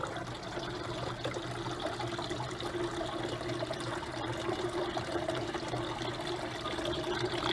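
A small backyard garden water fountain trickles and splashes steadily and softly, a continuous gentle flow with no voices.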